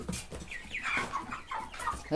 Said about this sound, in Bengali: এগুলো হলো আমাদের মুরগি।